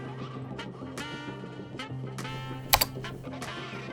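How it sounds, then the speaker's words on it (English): Computer keys tapped in a terminal session, scattered clicks at an irregular pace followed by a sharper double keystroke like pressing Enter, close and fairly quiet over a steady low hum. "Continue by typing yes and pressing Enter."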